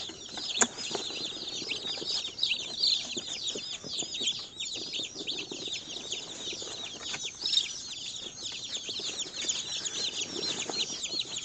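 Baby meat chicks peeping in a brooder on a homestead, a dense chorus of high, overlapping cheeps and chirps that runs continuously and close, with occasional rustling and no talking.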